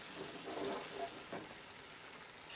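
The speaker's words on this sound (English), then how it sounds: "we're going to simmer this until thick" Maple syrup sauce with water simmering in a pan alongside pork cutlets, a faint, steady low sizzle and bubbling hiss that continues evenly, heard alone without speech.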